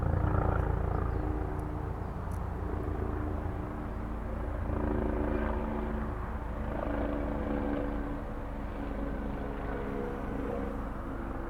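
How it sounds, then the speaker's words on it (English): A military helicopter drones steadily at a distance, its low rumble and rotor chop holding at an even level throughout with no one speaking. "That is a military helicopter."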